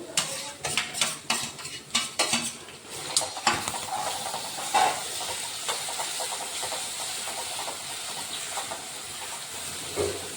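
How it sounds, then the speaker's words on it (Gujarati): Crushed onions sautéing and being stirred in a pan for chapdi tavo, with repeated scraping and clinking strokes of a utensil early on over a steady sizzling hiss that continues on its own. "હવે થોડી ડુંગળી આપણી સતળાઈ જાય પછી આપણે ત્યારબાદ મસાલા કરીશું બીજા તો આપણી ડુંગળી સતળાઈ ગઈ છે"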